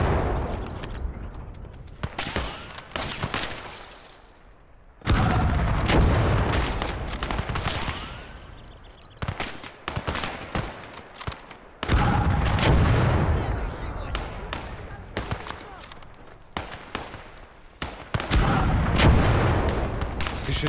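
Artillery guns fire in the Gates of Hell: Ostfront war game with repeated heavy booms and sharp bursts at irregular intervals, some close and loud, over a constant battle din with occasional voices.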